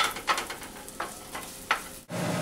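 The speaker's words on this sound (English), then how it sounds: "Add the garlic and saute it. Saute the garlic until it becomes light brown." Garlic sautéing in melted butter in a pan, soft sizzling with a few stirring scrapes in quick bursts, close but faint, ending in a brief cut before the sizzle resumes.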